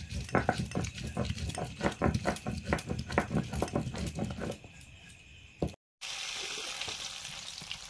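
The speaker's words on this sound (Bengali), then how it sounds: "মাংসের আলুগুলো ভাজছি" Potatoes for chicken curry frying in a pan, loud rhythmic scraping and clattering as they are stirred over a sizzle, then quieter frying after a brief cut, with a voice faintly under it.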